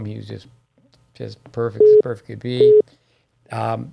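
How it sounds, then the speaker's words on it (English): Two short, loud steady electronic beeps from a phone signalling an incoming call cut through a podcast conversation between tennis talkers, landing over ongoing speech. "That's my phone, listeners. I apologize. Beeping in."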